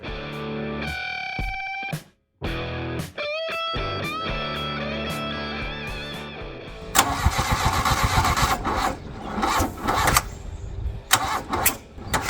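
A Mk1 Volkswagen Golf engine cranks in repeated laboured bursts, breaks off briefly, cranks again and then turns into a louder, rough, uneven churning, recorded nearby with no talking.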